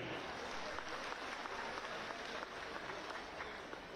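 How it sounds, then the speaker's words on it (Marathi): An audience at a village event in Naigaon, Satara claps for the woman sarpanch, a dense, even wash of applause heard from some distance and fairly quiet, sustained throughout without a break. "एकदा जोरदार टाळी त्यांच्यासाठी."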